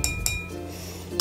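A spoon clinks against a glass while stirring sugar to dissolve it, a few bright close taps with a soft swirling scrape between them.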